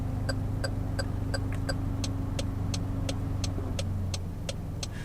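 A Daihatsu Tanta Funcross (LA650, turbo) hazard indicator ticks in a steady, even rhythm, each click a bright electronic tone over a low idling engine hum.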